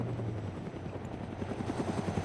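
A helicopter in a military video game thumps with rapid rotor chop and a low engine drone, steady and fairly close.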